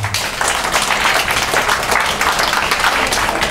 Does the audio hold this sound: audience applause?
yes